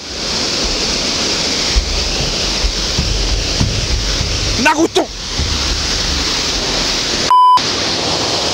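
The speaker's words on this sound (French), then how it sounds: "nous allons voir la cascade qui est fabuleuse de près" A waterfall seen close up during a visit in Edinburgh, a loud continuous rushing roar of falling water that fills the scene, briefly broken by a shouted voice and a short electronic beep near the end.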